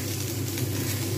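Vegetables frying in hot oil, a dense, continuous sizzle at steady loudness.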